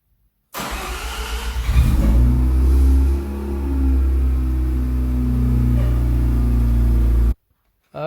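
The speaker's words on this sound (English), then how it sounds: "Okay, I've just run the engine." A Mazda RX7 rotary engine starts abruptly, revs up strongly for a couple of seconds, then settles into a steady loud running hum before cutting off sharply, heard close with no talking.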